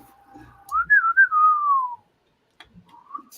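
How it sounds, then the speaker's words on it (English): A person whistles a single sliding, warbling tune for about a second and a half, fairly close and clear, with faint shuffling before and after and a short quiet gap. "I heard somebody whistle."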